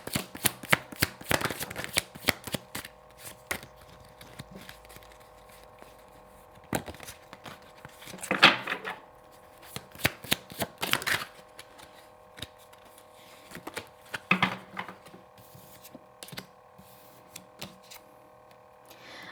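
Tarot cards are shuffled repeatedly in crisp riffling bursts with short pauses, close up, along with light tapping and handling noises and no talking.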